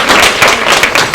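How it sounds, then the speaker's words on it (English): An audience applauds a retired Air Force master sergeant at a church service, with loud, dense clapping from many hands filling the brief moment. Nobody speaks over it. "I think that deserves a round of applause."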